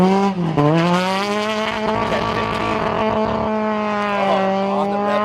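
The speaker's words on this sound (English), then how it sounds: "you can hear that 4-cylinder Ecotec or Toyota engine" A desert race car with a 4-cylinder Ecotec or Toyota engine screams on its rev limiter at the 2022 Legacy Baja Nevada race, a loud, sustained, buzzy engine note that dips briefly and then holds.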